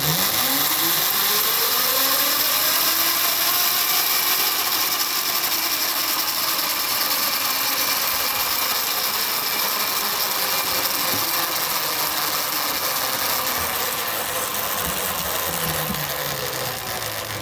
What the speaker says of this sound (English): this motor is running at about a little under half of its rated power